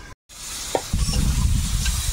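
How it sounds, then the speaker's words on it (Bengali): Food fries and is stirred in a pan over a wood-fired earthen stove, a dense close sizzle with scraping stirs, broken at the start by a brief moment of silence. "কিছুক্ষণ নেড়ে চেড়ে ভেজে নিয়েছি"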